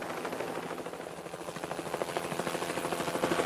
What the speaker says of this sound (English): This was no time for a chat with a helicopter.